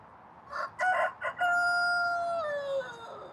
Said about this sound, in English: Cock-a-doodle-doo to you too, buddy.